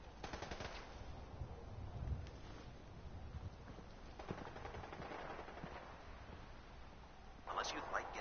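Bursts of automatic gunfire rattle through a Fallout 4 game scene, rapid repeated shots at moderate distance over ambient game noise, with a brief louder crackle near the end.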